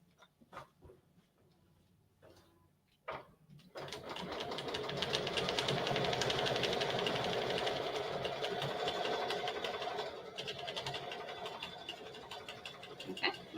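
A Brother sewing machine works through an embroidery stitch-out. A few faint clicks come first, then a loud, steady, rapid mechanical whir runs close-up for about ten seconds without talk.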